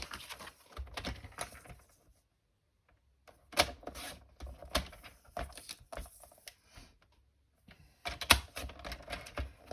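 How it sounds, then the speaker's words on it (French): Scissors cut through design paper for a handmade card in short bursts of crisp snipping clicks, separated by quiet pauses, close and fairly faint. "je vais couper vraiment au bord de mon papier design"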